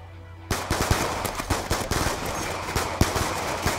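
Gunfire in a tunnel in the video game Black Ops 2, with rapid bursts of automatic shots that start abruptly and rattle on loud and close, reverberating without pause.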